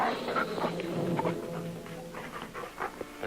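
A dog whimpers and pants amid a busy, cluttered scene, its soft whines and breaths mixed with shuffling and other background noise at moderate volume.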